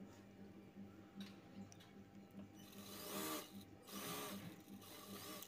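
A sewing machine stitches a blouse waistband in short bursts, its rapid mechanical chatter starting and stopping, with louder runs near the end; close and clear in a quiet room.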